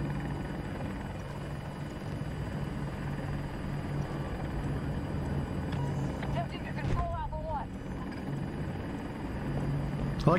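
Attack helicopter in the Battlefield 2042 game, with a steady, loud rotor drone filling the whole stretch, some brief chirping effects midway, and a player talking over it.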